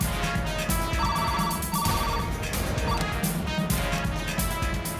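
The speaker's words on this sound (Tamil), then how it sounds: "போன் எடுங்க." A telephone rings with repeated electronic bursts in an office-like control room setting, loud and close, continuing for several seconds with no talk.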